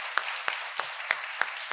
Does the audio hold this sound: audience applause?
yes